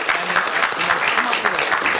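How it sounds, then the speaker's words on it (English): Applause from an audience in a city council chamber, a dense burst of many hands clapping close and loud, with voices mixed in under it. "Let's give them a big round of applause."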